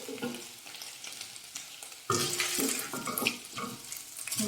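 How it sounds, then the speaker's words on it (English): Pilau frying in a sufuria after chicken was browned, a soft sizzle with scraping stirs that turns into a louder, busier crackle partway through, near and without talk. "I'm using the same sufuria to fry my pilau"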